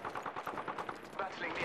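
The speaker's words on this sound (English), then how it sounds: "I'm taking fire." Rapid automatic gunfire in the Apex Legends video game, a fast burst of evenly spaced shots lasting under two seconds, fairly loud and close with a brief swell near the end.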